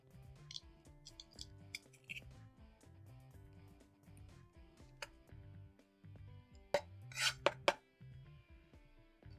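Garlic cloves crushed with a knife on a cutting board in a home kitchen, giving quiet intermittent taps and scrapes with a few sharper clicks near the end, over soft background hum.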